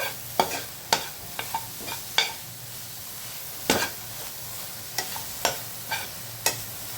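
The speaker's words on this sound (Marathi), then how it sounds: "ते देखील परतू परतू घ्यायचं" Onion with salt is sautéed in a pan for eggplant bharit. A spatula strikes and scrapes the pan in sharp, irregular clacks over a low, steady sizzle.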